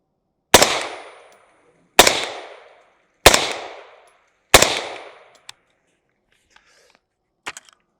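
Taran Tactical V7 Sovereign rifle fitted with a Huxworks suppressor firing four evenly spaced, close shots, each a sharp crack with a short decaying tail, followed by faint clicks and handling noises.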